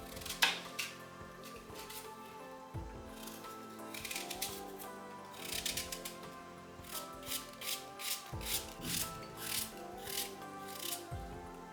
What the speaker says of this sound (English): I prefer to cut the apples into pieces, not to grate them